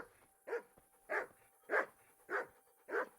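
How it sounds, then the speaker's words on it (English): Dog in the video game Kingdom Come: Deliverance barks five times in a steady, evenly spaced rhythm, each bark loud and close with no talk over it. "There's another dog."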